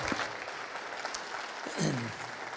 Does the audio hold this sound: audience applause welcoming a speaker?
yes